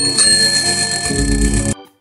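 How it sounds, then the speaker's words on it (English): A bicycle bell rings in a bright, sustained metallic trill, close and loud, then cuts off abruptly into silence. "Bicycle"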